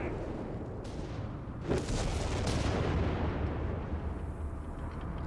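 Artillery fire in the video game Company of Heroes 3: a continuous rumbling bombardment with a heavier boom near the middle, dense and steady throughout.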